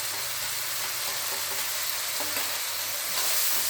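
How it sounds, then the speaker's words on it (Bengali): Masala of cumin, turmeric and chili powder frying in a pan while being stirred, a steady continuous sizzle with faint scraping, fairly close and without talk, slightly louder at the end. "আমি এখন এটা ভালো করে কষিয়ে নেবো মশলাটা"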